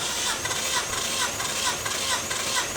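Nissan Skyline R33 engine cranking on the starter during a compression test, a steady rhythmic churning with regular pulses, close and fairly loud, with faint voices underneath.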